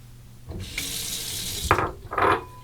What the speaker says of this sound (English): First, I'll soak this brush in some hot water right in this marble cup right here for about 20 seconds.